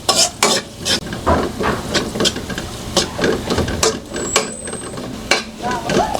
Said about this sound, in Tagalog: Unang gagawin po natin, magigisa ng bawang. Ayan. So, i-brown lang po natin yan.